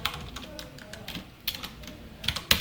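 Code being typed on a computer keyboard during a Python programming lesson, with quick irregular key clicks and a few sharper taps toward the end, close and fairly quiet.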